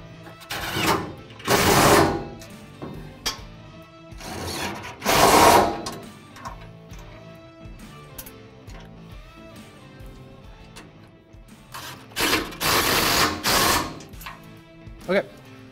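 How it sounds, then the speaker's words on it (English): Power tool driving bolts on a Can-Am Commander cargo rack, several loud whirring bursts of a few seconds each separated by quieter gaps, up close. "those are all tightened down now"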